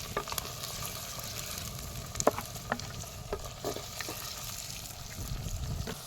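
Onions, green chillies and cashew nuts frying in hot oil for a paneer curry, a steady close sizzle with scattered stirring scrapes and clinks of a spoon against the pan.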